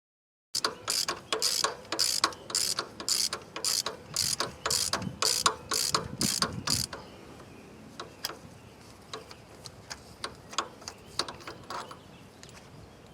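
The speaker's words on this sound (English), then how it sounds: "So I'm going to take the spark plugs out here." A hand ratchet clicks in quick repeated bursts while loosening spark plugs on a 2000 Ford Focus with a misfire; rapid, close clicking runs for the first half, then slower, fainter ticks follow.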